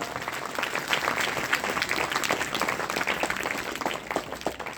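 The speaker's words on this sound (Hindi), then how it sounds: "तो उन बेटियों के लिए भी एक बार जोरदार तालियां बजाएंगे आप।" Audience applause at an Arya Samaj Vedic bhajan gathering at a gurukul in Haryana, with steady, dense clapping from a crowd that holds up at a constant level throughout.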